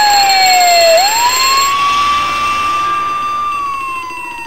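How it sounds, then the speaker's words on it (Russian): A school fire alarm, set off in the video game Harvester, wails as a loud electronic siren tone that dips and then rises into a steady sustained note before easing down, with no voices over it. "Включение пожарной сигнализации."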